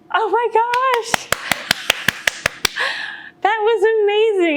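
One person claps about nine times in a quick, even rhythm, each clap sharp and close, set between stretches of lively talk.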